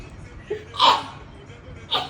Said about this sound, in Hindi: मैंने छींक भी कैप्चर करी है इसमें।